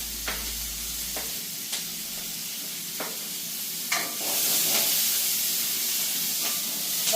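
Long-cut green chillies and garlic sauté in a pan, giving a soft steady sizzle with a few distinct stirring scrapes, then a louder hissing burst of steam near the end, with no talking.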